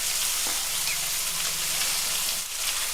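Vegetables sizzling and frying steadily in a hot pan for fish fried rice at home, a continuous close crackle with a brief stir or clatter near the start.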